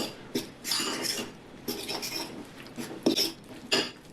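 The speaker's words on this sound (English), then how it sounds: "Just like to go in with my fork and give this a mix." A fork mixes cottage cheese and eggs in a bowl, making soft, irregular scraping and clinking strokes at close range, with no talking.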